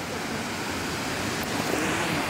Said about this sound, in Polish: Takiego wodospadu jeszcze nie widziałem.